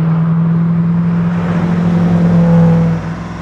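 A Koenigsegg Agera R on a racetrack gives a loud, close engine drone that holds steady with a faint higher whine, swells briefly near the end and then drops away.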